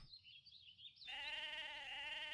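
A sheep bleats in the video game Mabinogi, a loud nasal wavering call that starts halfway through and holds steadily to the end, preceded by a brief higher squeak.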